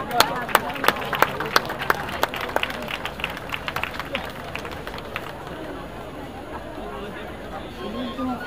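Applause from an outdoor audience in Barcelona at the end of a sardana dance, dense sharp claps at first, thinning and fading into crowd murmur and chatter.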